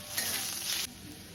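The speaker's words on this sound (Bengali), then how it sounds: "লঙ্কাটা দিয়ে আমি এবার হালকা করে এটাকে আবার ভেজে নেব।" Green chillies sizzling in a hot pan, a bright crackling fry that swells briefly then drops to a softer simmer.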